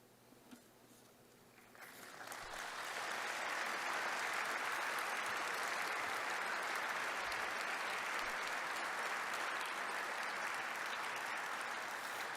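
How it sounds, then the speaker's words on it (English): Congress participants break into applause, starting faint and swelling after about two seconds into sustained, dense clapping from a large hall audience that holds steady to the end. "With the outstanding applause of the participants"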